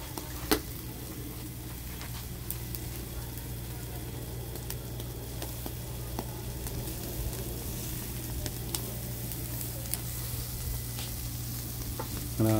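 Food sizzles and crackles steadily on a hot grill, a constant frying hiss with occasional sharp pops, with no talking.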